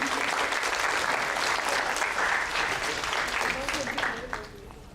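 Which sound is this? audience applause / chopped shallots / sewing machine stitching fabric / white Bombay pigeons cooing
audience applause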